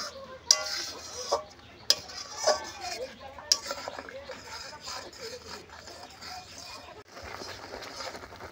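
Milk thickening with cornflour in a pan is stirred by hand, with sharp metallic clinks of a spoon against the pan and soft scraping, close by, while a voice talks over it and a rooster calls in the background.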